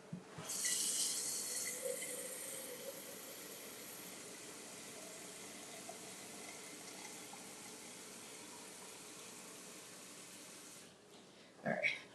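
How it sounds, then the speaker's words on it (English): Tap water runs steadily to fill a Keurig coffee maker reservoir, a continuous low hiss that stops near the end, followed by a brief clatter. "All right, water in the Keurig."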